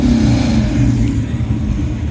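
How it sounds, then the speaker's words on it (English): A car's engine at a Radwood classic car show revs loudly and close by, a steady deep roar with a rising tone that holds for about two seconds before easing slightly. "Rev it a little."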